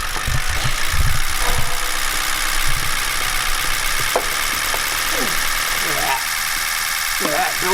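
A crew cab truck engine idling just after its first start in six months, a steady rough rumble with knocking vibration, while people talk nearby and short clanks sound over it.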